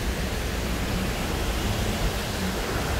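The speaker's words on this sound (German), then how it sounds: "Aber dieser Wasserfall." A waterfall in the Nozon gorge pours as a constant, even rush of falling water, steady and moderately loud with no voices over it.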